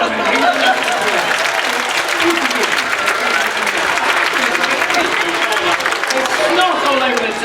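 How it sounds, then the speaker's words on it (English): A small group claps steadily for a woman in a loud, dense round of applause that holds evenly for several seconds, with voices mixed into the clapping. "let's give her a round of applause"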